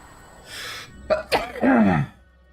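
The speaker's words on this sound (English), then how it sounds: "I sneezed." A person sneezes close to the microphone: a couple of quick sharp intakes, then an abrupt burst, trailing into a short voiced exhale.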